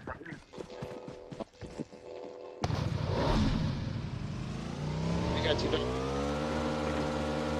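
A motorbike engine in PUBG Mobile revs up and holds a loud, steady drone with a rising pitch, while players talk over it.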